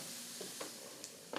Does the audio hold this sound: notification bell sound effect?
no